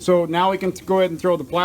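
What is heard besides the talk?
No everyday noises stand out.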